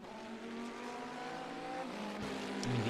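Race car engines in the rFactor 2 sim racing game during a sports car race at Silverstone, a sustained droning engine note with shifting pitch, building louder toward the end with a sharp transient and brief tire squeal.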